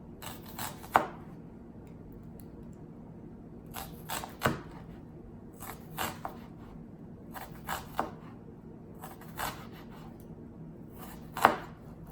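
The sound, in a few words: knife chopping onion into thin slices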